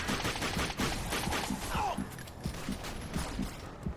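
Enemy gunfire crackles in the Darkness 2 video game as a dense, continuous burst of rapid shots.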